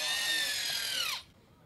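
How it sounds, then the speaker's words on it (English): A loud power drill whines at high pitch, then winds down with a falling tone and cuts off into quiet room noise. "that's a loud drill"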